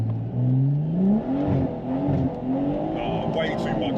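A tuned stage 2 BMW M140i with B58 engine launches hard from a standstill, the engine note rising and wavering as the rear tyres spin, loud and close, with people talking over it.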